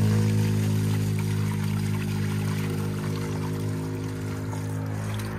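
Fresh tap water runs steadily into a bottle at a farm in Greece, giving a continuous close rushing pour over a low, constant hum with no speech.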